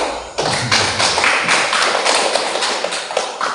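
An audience applauds after a school principal's presentation during a performance observation, a loud, dense, continuous clapping from many hands held steady throughout.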